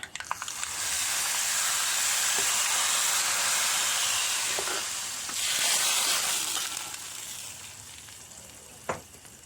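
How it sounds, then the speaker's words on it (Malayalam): A tempering of spices and Kashmiri chili fried in hot oil, poured into buttermilk curry with yam, bursts into a loud steady sizzle, swells again briefly, then a small clatter as it settles. "അപ്പോൾ നമുക്കിത് നമ്മുടെ മോര് കറിയിലേക്ക് ഒഴിച്ചു കൊടുക്കാം"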